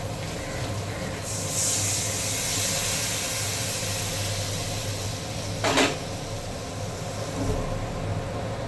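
Hot water is poured into a simmering, lightly spiced tilapia fish curry with whole green chilies, and the pot answers with a steady, loud steamy hiss, with a brief clatter partway through.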